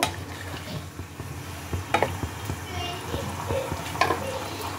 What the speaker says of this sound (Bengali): এই সব কিছুকে আবারও একবার ঝোলের সাথে ভালো করে মিশিয়ে নেব।